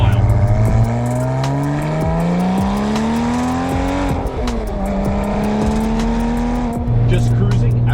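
A Porsche 996 911 Turbo engine accelerates hard under raised boost, loud and close, its pitch climbing through the gears with a brief dip at each shift, and a voice speaks intermittently over it.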